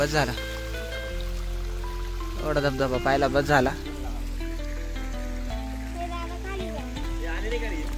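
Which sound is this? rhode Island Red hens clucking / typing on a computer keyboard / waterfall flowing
waterfall flowing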